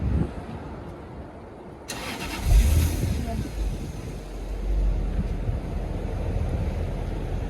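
A 2003 Jaguar with an old engine cranks and starts after a quiet stretch, then settles into a rough, close engine rumble with some wind noise, and someone talks over it.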